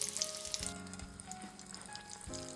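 Japanese potato croquette patties fry in oil on medium-high heat, a soft steady sizzle and crackle heard close, with a few light clinks and stirring touches and no talking.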